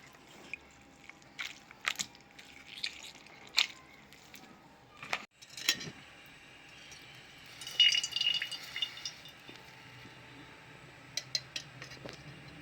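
Washed ingredients for tomato chutney are squeezed by hand so water drips and splashes off them: scattered wet drips and squishes come in short bursts separated by quiet gaps.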